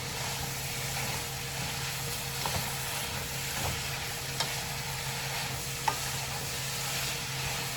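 Zucchini noodles sauté in a pan with a constant, fairly loud sizzle and hiss, punctuated by occasional light taps and scrapes from stirring.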